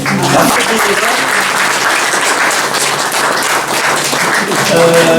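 A crowd at a local artisans' forum applauds volunteers with loud, continuous clapping from many hands, a dense unbroken patter lasting the whole span, with faint voices blended in.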